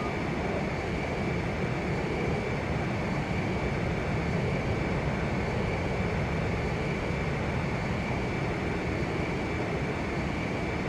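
Steady, loud drone of jet aircraft engines in flight in Ace Combat 5, a dense even roar holding without break while planes approach a refueling craft.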